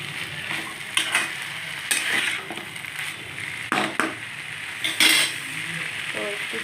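Prawns and banana flower fry in a pan over raised heat, a low sizzle broken by several sharp stirring scrapes and clinks of a spatula against metal, close and fairly loud.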